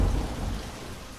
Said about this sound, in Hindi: अचानक से आधी रात को तेज गड़गड़ाहट के साथ बारिश होने लगती है।